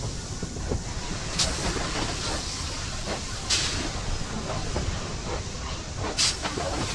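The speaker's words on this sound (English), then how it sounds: "This is a slow train and it's very loud." A slow, very loud train in the video game Poppy Playtime Chapter 2, a steady rumbling roll with bursts of steam hiss recurring every few seconds.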